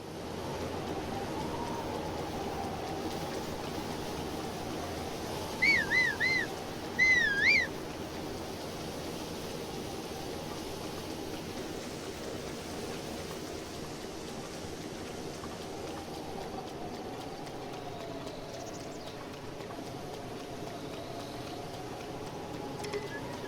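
Steady rain falling in the game Zelda Breath of the Wild, a constant soft hiss that runs the whole length at moderate level, with a couple of brief chirp-like tones near the middle.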